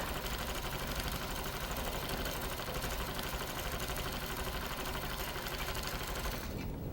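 A sewing machine stitching freehand quilted feathers runs in a fast, continuous, even whir up close, stopping abruptly at the very end.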